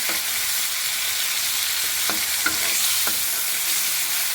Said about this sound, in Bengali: রসুন চাপা, এটা আমি লাল লাল করে ভেজে নেব